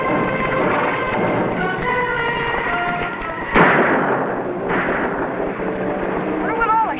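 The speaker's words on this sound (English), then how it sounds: "Wonder what all the shooting's about, Uncle Sandy?" Gunfire in a 1950s TV western, sharp cracks and booming reports mixed with music and dialogue, one louder blast standing out midway through the dense, busy soundtrack.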